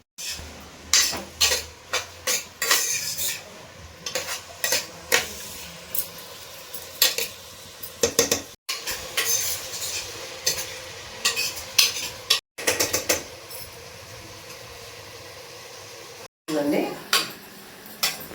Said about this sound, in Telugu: ఇవి గోల్డెన్ రంగు వచ్చే వరకు కూడా వేపుకోవాలండి